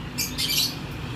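Two adult pairs of budgerigars in an indoor aviary give a couple of brief high chirps over a low background hum, close and fairly faint.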